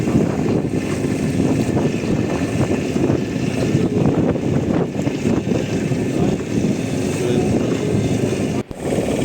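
Steady wind roars against the microphone during a boat ride on Chilika lake, mixed with a constant motor drone, loud and unbroken throughout with no voices.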